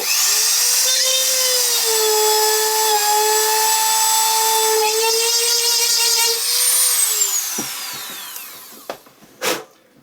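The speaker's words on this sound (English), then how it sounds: "I'm just going to drill a hole right in the middle" A power drill whines steadily at high speed, its pitch dipping slightly as it bites into the middle of a wooden box, then spins down, followed by a few light knocks.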